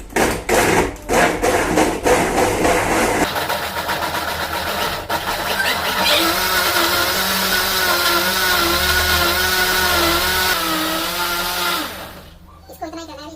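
A mixer blender whirring through a mango shake: a few sharp knocks first, then a steady, loud, whining motor drone for roughly nine seconds before it cuts off, with faint voices in the background.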